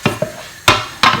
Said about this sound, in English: you're going to chop your mushroom